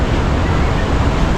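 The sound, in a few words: strong wind and sea waves at Bucana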